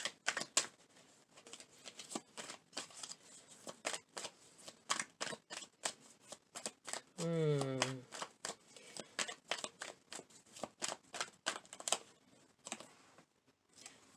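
Tarot cards are shuffled and handled, giving a quick irregular run of crisp slaps, flicks and ticks close by, with a brief vocal sound partway through.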